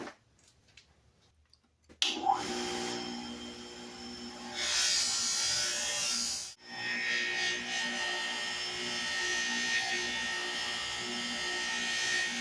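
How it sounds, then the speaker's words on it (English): A high-speed buffing wheel polishes the Bakelite housing of 1950s Sunbeam hedge trimmers. It starts abruptly after a quiet moment with a steady loud whine, swells as the part is pressed harder, and drops out briefly before resuming. "the buffing wheel did a nice job cleaning it up"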